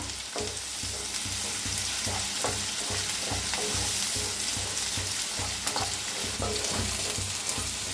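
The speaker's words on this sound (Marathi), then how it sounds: "थोडंसं हिंग कांद्याला छान असं भाजून घेऊया" Finely chopped onion with a pinch of asafoetida and cumin seeds sizzles steadily in a pan while the making of a Maharashtrian okra masala dish gets underway, with a dense, continuous frying hiss and regular stirring scrapes throughout, close and loud, without speech.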